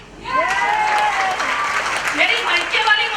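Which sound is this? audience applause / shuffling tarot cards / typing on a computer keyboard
audience applause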